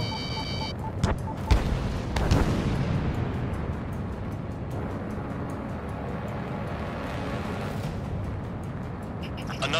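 Missile explosions and combat booms in the Ace Combat 7 video game during an attack on SAM sites, a few sharp blasts early on over a continuous rumbling roar of jet engines.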